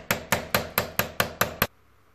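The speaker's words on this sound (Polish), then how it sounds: "Za pomocą punktaka i młotka delikatnie uderzamy we wkładkę, aby wszystkie zastawki i sprężynki wyleciały." Hammer strikes on a center punch driving into a lock cylinder: eight sharp, evenly spaced metallic taps in quick rhythm, close and clear, then abrupt silence.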